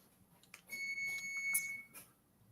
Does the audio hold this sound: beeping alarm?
yes